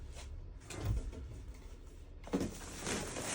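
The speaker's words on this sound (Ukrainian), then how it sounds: "А прикрий, будь ласка, двері." An indoor door is pushed shut with a soft scrape and a dull thud, followed by a brief rattle, close by against quiet room noise.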